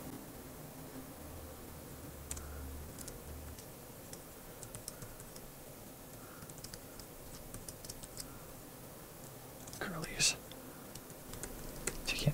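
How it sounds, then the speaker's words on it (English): Quiet, scattered keystrokes on a computer keyboard as hex characters of a magazine machine-language listing are typed in, set against a steady low hiss, with a slightly louder cluster of clicks near the end. "Type on this keyboard."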